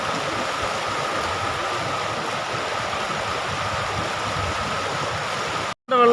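Water rushing through a partly opened dam shutter near a waterfall at a hydroelectric power house, a steady loud churning roar that stops abruptly near the end, with no voices.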